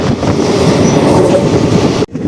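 The Garudadri Express cruises at around 100 to 110 km/h between Tirupati and Chennai, a loud, dense rumble and rattle of wheels on track heard close from onboard, cutting off abruptly near the end.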